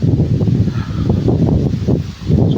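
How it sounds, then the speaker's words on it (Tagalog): Strong mountain wind gusts roar and buffet in low, uneven surges across a farm, close and loud, with no speech. "Sobrang lakas ng hangin."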